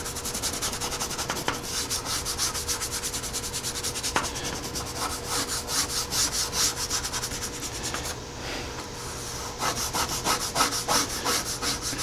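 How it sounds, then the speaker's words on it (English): Stiff brushes scrubbing dried wax off black plastic trim, a steady close-up rasping friction in continuous rhythmic strokes with a brief pause near the end before scrubbing resumes. "that's just the way the brushes sound on the plastic"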